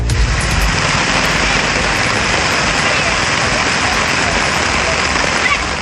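Heavy rain pours down over villages in Tamil Nadu, a dense, loud, unbroken hiss that holds steady from start to finish.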